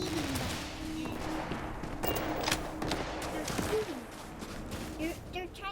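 Enemy gunfire in the video game Starfield, repeated shots and bursts cracking over a busy game soundscape, with a voice talking over it.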